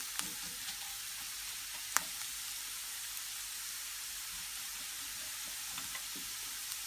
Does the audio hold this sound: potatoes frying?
yes